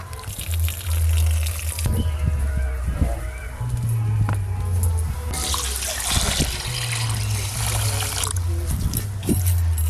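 Water pouring and splashing into a pot of two kilos of rice set to soak for chicken biryani, running in uneven bursts with clinks and knocks of handling, a low hum underneath.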